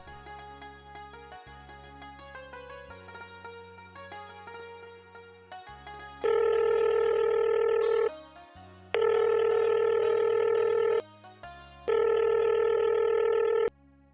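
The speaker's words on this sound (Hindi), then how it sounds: "फोन करके ही देख लूं।" A telephone is dialed with a quick series of keypad tones, then three long, loud ringback tones repeat in an even rhythm as the call rings unanswered.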